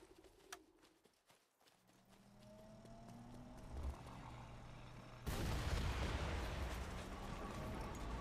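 A deep rumbling blast erupts midway in the game Saboteur and rolls on as a loud, noisy roar, following a quieter stretch with faint tones and crackles.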